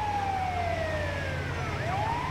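Ambulance siren in the GTA V video game, a loud wailing tone that sweeps slowly downward and then climbs again, continuous over a low engine rumble, with no talking.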